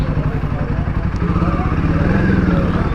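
A Royal Enfield Himalayan 450 motorcycle engine runs steadily at close range for the whole stretch, a continuous low throbbing with some speech mixed in.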